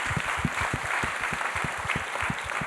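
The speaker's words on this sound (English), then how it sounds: "round of applause for all those people." An audience claps in a quick, scattered round of applause, moderately loud and sustained for a few seconds.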